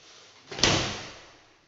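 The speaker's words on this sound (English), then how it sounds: "we got our glass shower door is all installed in the shower" A glass shower door in a newly built Cape Coral, Florida home slides or swings once, giving a single close whooshing scrape that rises sharply and then fades out slowly.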